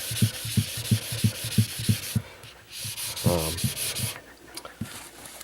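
A knife with a convex bevel is stroked across an abrasive grit sharpening surface, giving a steady rhythm of close, scratchy rubbing passes that stop briefly and then resume.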